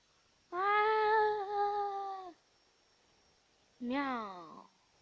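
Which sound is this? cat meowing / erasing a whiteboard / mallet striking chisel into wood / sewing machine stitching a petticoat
cat meowing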